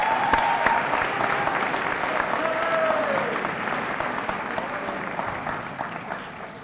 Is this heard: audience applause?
yes